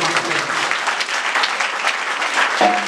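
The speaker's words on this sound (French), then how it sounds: "Si vous croyez ça, applaudissez le Seigneur." A church congregation claps during a sermon, a busy, moderately loud spread of many hands applauding together for a few seconds, with a brief tonal sound near the end.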